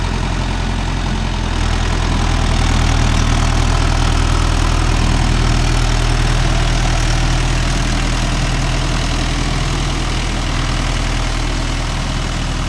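A vehicle engine runs close by with a loud, steady, low rumble, droning without a break the whole time and no voices over it.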